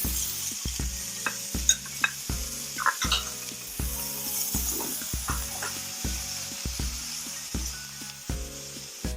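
Tofu frying over medium heat in a stainless steel pan, a close steady sizzle broken by regular spatula scrapes and knocks against the metal.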